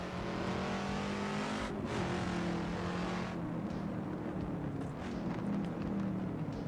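A race car in Assetto Corsa roars close by, its engine and exhaust droning steadily under load with shifting pitch as it accelerates through a corner, loud and continuous.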